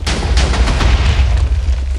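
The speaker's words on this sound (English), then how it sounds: "Don't mind the explosions, it's fine." Game explosions from an industrial setup in the Minecraft modpack Forgecraft 2, a dense, continuous barrage of booming blasts with heavy low rumble and repeated sharp cracks, loud and close throughout.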